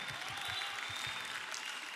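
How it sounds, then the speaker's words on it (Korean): Audience applause fills a church service, a steady wash of clapping from many hands, moderately distant and even throughout with no voices on top. "근데 박수 받을 일인가요?"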